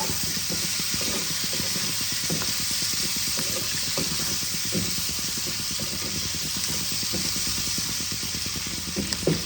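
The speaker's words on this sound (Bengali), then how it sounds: "এবার দেখো আমি অল্প আদা রসুন বাটা আমি দিয়ে দিলাম। ভালো করে নেড়ে দেব।" Ginger-garlic paste frying in a pan for chilli aar fish, a steady broadband sizzle with repeated stirring scrapes throughout, fairly close and continuous with no talk.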